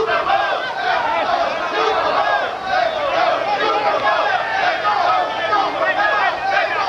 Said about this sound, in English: can hear a crowd here, part of it, chanting Super Mo for Mo Hope